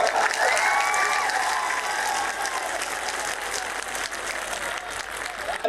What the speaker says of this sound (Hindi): मुझे तो ग्वालियर की ताली सुनाओ